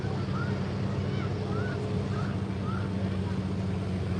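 A farm stock class tractor at a tractor pull in Fox Township roars with a steady, heavy low engine drone, continuous and loud throughout, with wind buffeting the microphone.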